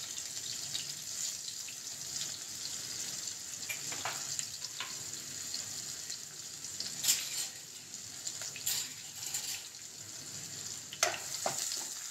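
Chopped onion sautéing in a pan with a pinch of asafoetida, a steady soft sizzle running throughout with a few sharper clinks and stirring scrapes near the middle and end, no voices.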